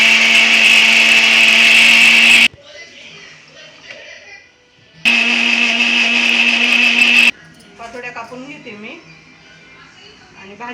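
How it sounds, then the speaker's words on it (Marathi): A blender grinds roasted masala with coconut in two loud, steady whirring bursts of about two seconds each, separated by quieter stretches where someone talks. "आता आपण दळायला घेऊया घेते दळून कारण खोबरं लवकर बारीक होत नाही"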